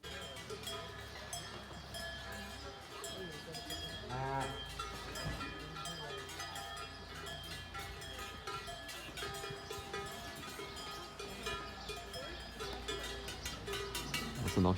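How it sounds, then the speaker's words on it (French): Cows wearing cowbells cross a mountain village flea market, with a continuous jangle of many bells and an occasional moo under a busy outdoor murmur. "des vaches qui traversent le vide-grenier comme ça"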